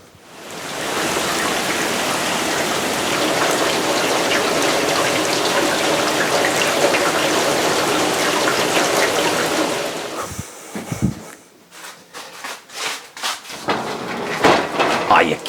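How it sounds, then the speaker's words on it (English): Heavy rain pouring outside as a steady, dense hiss for about ten seconds, then breaking off into scattered clicks and knocks. "Nope, it's still pouring out there, and it's literally raining cats and dogs."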